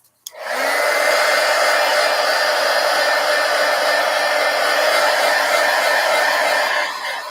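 A hair dryer switches on after a click and blows drying paint with a loud, steady whirring roar that holds level for about seven seconds before easing slightly at the end.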